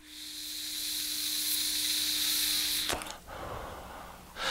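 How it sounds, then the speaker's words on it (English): Long steady hissing inhale drawn through an electronic cigarette from a Zee starter kit, close and sustained for about three seconds, then a short pause and a brief breathy exhale. "As soon as I get a flavor, then I'm going to do a nice long inhale."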